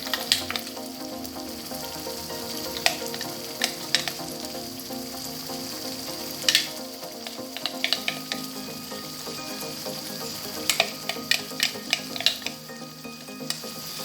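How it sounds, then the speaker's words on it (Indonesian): Rendang spice paste fries in oil with bay leaves, sizzling steadily and close, with scattered clinks and scrapes of a stirring utensil against the pan. "Kita tumis bumbunya sampai harum ya ibu-ibu."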